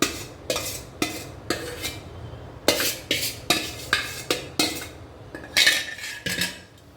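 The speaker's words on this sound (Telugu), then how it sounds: "ముక్కలకు బాగా పట్టిద్దాం గుజ్జుని" Drumstick pieces being mixed with tamarind pulp, chilli, salt, turmeric and fenugreek and mustard powders for a pickle, giving repeated close clinks and scrapes of a utensil against a metal vessel in an uneven rhythm, with no talking.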